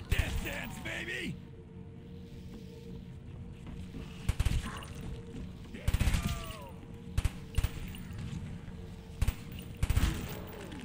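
Bursts of gunfire from a weapon in Call of Duty: Black Ops Zombies on the Kino Der Toten map, sharp spaced volleys punctuating the game ambience while someone talks between and over the shots.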